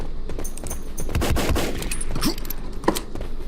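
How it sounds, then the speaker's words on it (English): Pistol gunfire in the video game Godhunters: a rapid string of close shots in quick succession, loud and punchy, with a few separate shots spaced apart toward the end. "if you just shoot off like this, you're more likely to just land your shots anyway"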